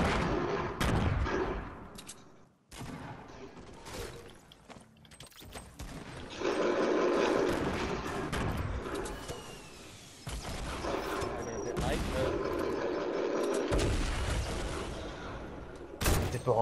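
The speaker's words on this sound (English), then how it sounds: "I'm just gonna fucking launch a heap of grenades in" Grenades go off in Fortnite as a string of heavy blasts and thuds at uneven intervals, mixed with mechanical game clatter and occasional voices.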